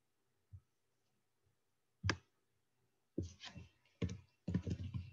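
Computer keyboard being typed on in a quiet room, a few isolated taps followed by short bursts of rapid clicking, close and fairly faint.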